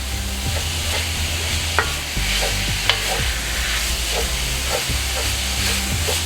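Ground beef browns in a pan for a hamburger lasagna, with a steady close sizzle and repeated scraping stirs clattering against the pan, no voices.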